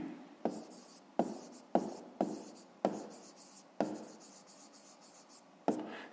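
A pen writing on paper during a fifth-grade maths exercise, heard as short scratchy strokes that each start with a tap, separated by brief pauses, close and quiet with no talking.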